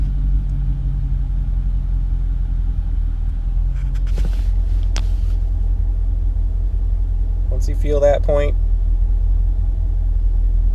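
A manual-transmission car's engine rumbles steadily as the clutch is eased out, the revs sagging as it begins to bog down, with a person talking over the low, continuous drone.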